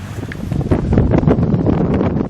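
Strong gusty wind blows across open ground around six in the evening ahead of a rainstorm, buffeting the microphone in loud rushing surges throughout.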